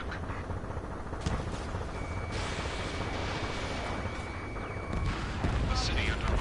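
Gunfire and explosions boom through a city under martial law during an aerial combat mission in Ace Combat 7, heavy continuous blasts layered over a dense roar with a faint tonal whine in the mix.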